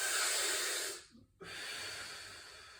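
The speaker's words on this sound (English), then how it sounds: "Let it go, we'll take another breath." Slow, deep breathing during a stretching exercise, a long close exhale hiss, a short pause, then a steady inhale, heard alone without talk.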